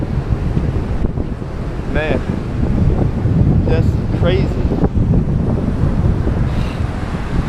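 Hurricane Matthew's strong wind roars continuously across the microphone with crashing surf underneath, loud and close throughout, while someone speaks briefly over it.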